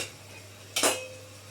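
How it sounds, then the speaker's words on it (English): Washed cauliflower (gobi) tipped from a strainer into a pot of thickened potato gravy for gobi aloo, a single short clattering splash of florets against metal amid a quiet kitchen hum. "now I'm going to add the gobi"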